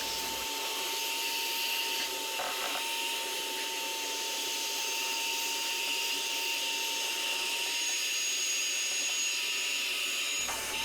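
A Metabo AS18LPC 18V cordless vacuum cleaner draws up dust and wood chips with a loud, steady, close whine and airy rush, and the pitch holds constant throughout with a few brief rattles of debris.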